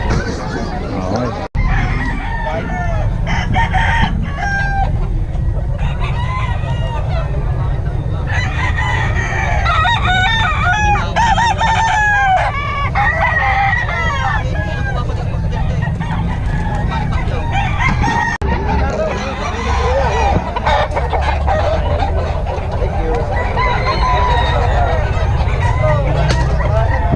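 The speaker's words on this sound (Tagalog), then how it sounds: "sobrang dami ngayon mga nagtitinda ng manok" Roosters crow repeatedly and hens cluck at a busy midday chicken market, a loud, dense overlapping chorus of fowl throughout, with faint voices in the background.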